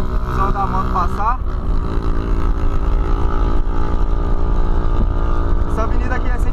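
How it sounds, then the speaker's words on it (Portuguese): A motorcycle passes a lowered Polo sedan travelling about 80 km/h on a highway avenue, its engine briefly rising and falling in pitch. It sits over the car's steady interior road and engine drone, which stays loud throughout. "Só dá a moto passar."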